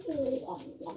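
A pigeon coos close by in a short, soft, rolling burst, with no talk.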